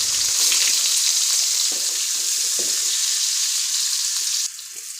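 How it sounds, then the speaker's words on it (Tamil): Chopped onions, cumin, fenugreek and two dried red chilies sizzle loudly in hot oil for brinjal kuzhambu, a steady bright hiss with a few stirring knocks, dropping to a softer fry near the end. "சீரகம், 2 காஞ்ச மிளகா, கட் பண்ணி வச்ச 4 வெங்காயம் போட்டு வதக்கிக்கலாம்."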